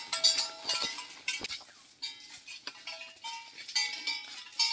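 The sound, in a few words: goats eating while grazing in the forest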